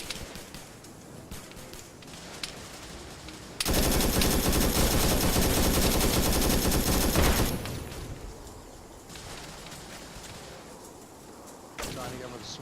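A Vietnam War video game erupts into a sustained, loud burst of rapid automatic gunfire lasting several seconds, framed by scattered single shots and battle noise before and after, with voices talking over the action.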